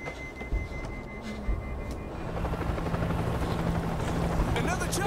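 A helicopter in the zombie shooter World War Z approaches with a steady rotor thrum that grows louder and closer over several seconds, mixed with game noise and voices talking.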